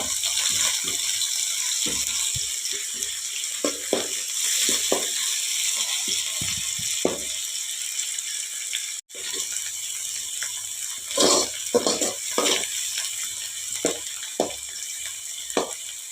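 Coriander leaves frying in hot oil in a pan for fried rice, a steady sizzling hiss with scattered crackles and pops throughout, no voices.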